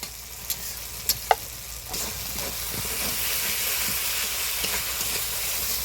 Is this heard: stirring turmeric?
yes